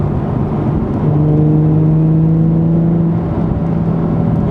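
Inside a Nissan 350Z with an Invidia Gemini cat-back exhaust and Berk Tech high-flow cats, a loud, steady droning exhaust hum with a sustained tonal note that rises slightly as the car pulls along a twisty road.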